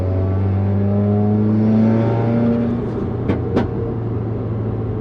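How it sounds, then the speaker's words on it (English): Subaru WRX engine idling loudly close by after the accelerator is released, its revs settling, followed by a couple of small exhaust pops near the end. "So when I let off the accelerator, you're gonna get nothing. You're gonna get one little pop and it's gonna stop."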